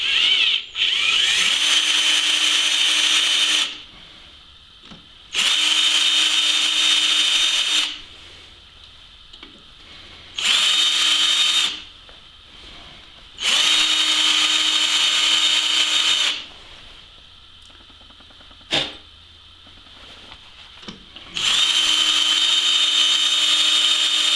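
A power drill grinds into a broken exhaust stud on a vehicle, running loud steady bursts of several seconds each, stopping and restarting repeatedly with brief quiet gaps and a sharp click between runs.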